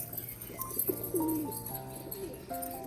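Pigeons coo repeatedly close by as they feed from a hand, soft throaty calls rising and falling over a steady low background hum.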